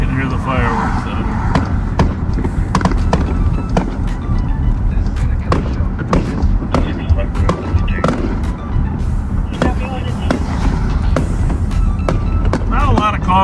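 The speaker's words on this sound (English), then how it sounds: "Can hear the fireworks out." Fireworks go off outside during a sheriff's patrol, sharp scattered pops and cracks under continuous talk and steady vehicle rumble.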